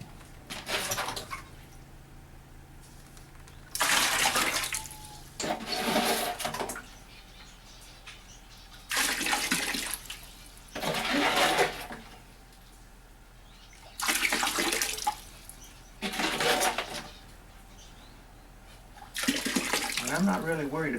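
Water is poured in repeated splashing bursts into a cage housing a snouted cobra, each pour lasting a second or two with brief pauses between, close and moderately loud.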